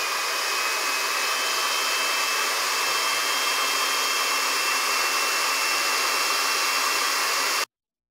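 A Goldshell X5 ASIC Dogecoin miner roars with steady, loud fan noise, a constant broadband rush with a faint whine running throughout before it stops abruptly near the end.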